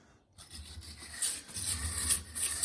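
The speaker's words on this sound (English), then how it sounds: "you just scrape it. It gets down in this cracks and gets pretty much the rest of it off" Steel wire brush scraping a 250-year-old hand hewn log on a log cabin, a series of close, rough rasping strokes in an uneven rhythm, heard alone.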